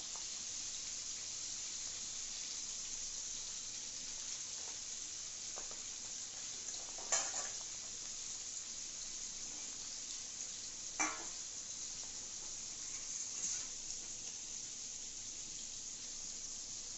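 Fish fries in oil with a faint, steady sizzle that runs throughout, joined by a few soft clicks and knocks from the kitchen.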